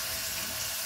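Water running from a tap in a steady, faint hiss of flowing water, brief and uninterrupted, with no voices.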